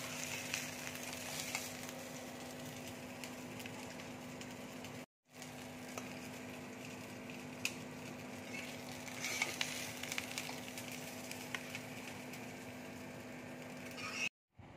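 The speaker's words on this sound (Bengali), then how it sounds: "এবার আমি কাটলেটগুলো এক করে তেলের মধ্যে ছেড়ে দিচ্ছি।" Paneer cutlets fry in hot oil in a frying pan over a medium-low flame, giving a steady, even sizzle that runs on its own with a brief break partway through.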